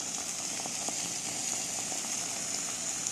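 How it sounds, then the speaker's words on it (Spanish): Filling sautéing in a pan over low heat for tuna-stuffed zucchini, a steady soft hiss and sizzle with faint crackles throughout. "Sofreímos todo junto y dejamos a fuego bajito que se cocine por unos 2 o 3 minutos"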